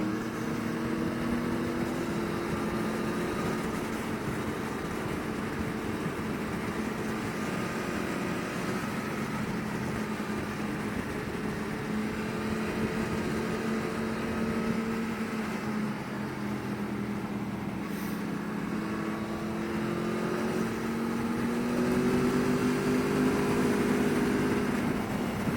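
An Aprilia Tuono V4 Factory motorcycle hums along on a Sunday road ride, a steady engine drone with shifting pitch and wind rush throughout, growing slightly louder toward the end, no talking.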